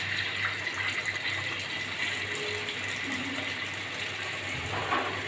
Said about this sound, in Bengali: আমি একই রকম করে সমস্ত পেঁয়াজগুলো ভেজে নেব